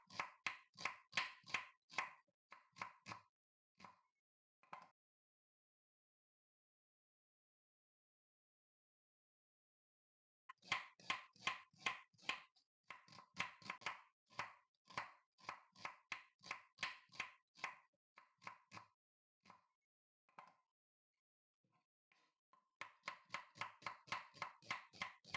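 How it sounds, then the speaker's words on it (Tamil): Fresh ginger being finely chopped with a knife on a board: rapid, crisp, close taps come in quick bursts, pausing for several seconds midway, then resuming in steady runs of fast chopping strokes. "இஞ்சியை ரொம்ப சின்னதாக குறுக நறுக்கிக்குங்க."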